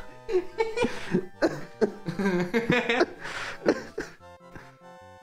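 Several coughs and throat-clearing sounds come in quick bursts, close by, mixed with a bit of laughter.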